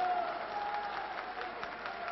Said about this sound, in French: qui n'est pas très nombreux, applaudit comme quatre